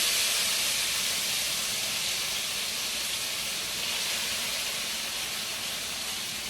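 Shredded tofu frying in about two tablespoons of grapeseed oil in a hot skillet, giving a loud, steady broadband sizzle that holds evenly with no talk.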